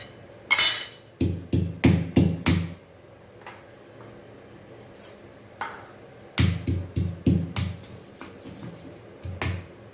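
Dried chilies pounded with rock salt in a stone mortar: two bursts of sharp, rapid thuds, five or six blows each, loud and close, separated by a quieter pause with faint scattered taps.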